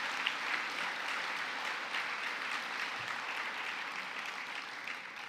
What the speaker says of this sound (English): Let's give one more round of applause for Ohio's 2024 Medal of Merit recipients.